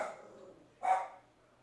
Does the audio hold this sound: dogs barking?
yes